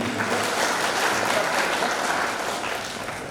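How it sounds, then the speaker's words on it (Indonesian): A crowd applauds at an inauguration ceremony for new cadets at a maritime polytechnic in Indonesia, steady massed clapping that holds for several seconds before easing off slightly at the end. "Tepuk tangan yang meriah"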